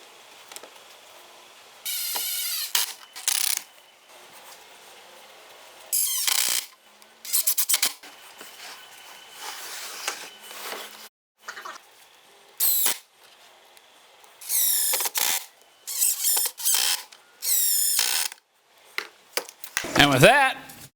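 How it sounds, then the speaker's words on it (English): Pocket screws driven with a drill into a clamped router table frame in a small shop: repeated short whirring bursts of the driver, each lasting about a second, separated by quiet pauses and rising to a louder final burst. "I'm just using these 48-inch clamps to hold this joint in place while I drive in our pocket screws"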